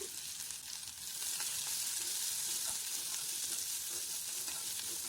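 Sliced onions sauté in a hot pan for frying paniyaram, a dense, steady hiss that grows louder after the first second and runs on with no voices.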